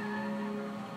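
Forklift racing in the mobile game Forklift Challenge: a steady whining engine drone with tonal hum and tire noise, continuous and fairly close throughout.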